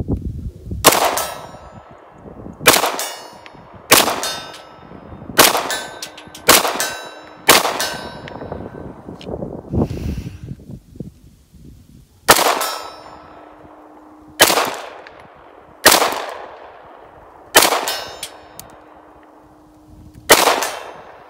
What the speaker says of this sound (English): Let's start banging on some steel.